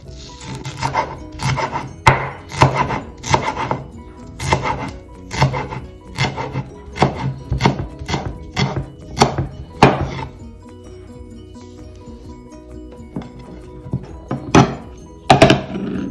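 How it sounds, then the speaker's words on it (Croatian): A knife chops young onions on a cutting board in a run of sharp, regular close thunks for about ten seconds, then goes quieter, with a few scattered knocks and a brief final burst. "Naseckat ćemo prvo crni luk"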